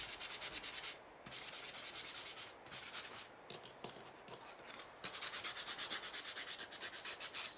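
A handheld sander distresses chalk-painted wood in quick, rhythmic rasping strokes, close and fairly quiet, with a brief pause near the start and a few short gaps between passes.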